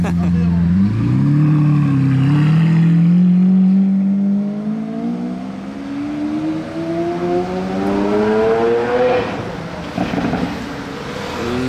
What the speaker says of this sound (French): arrive avec la Aventador S